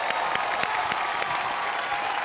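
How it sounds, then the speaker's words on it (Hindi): Audience at a comedy show applauds steadily, dense clapping of a medium-sized crowd, moderately loud and continuous throughout. "तालियां।"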